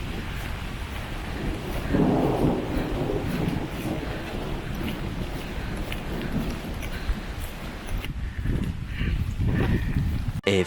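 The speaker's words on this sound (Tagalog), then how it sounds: "Umuulan ngayon. Nagla-lightning pa. And thunder." Rain and rumbling thunder during a thunderstorm on a backcountry camping trip in Algonquin, a steady wash of rainfall with low booming rolls, while people talk.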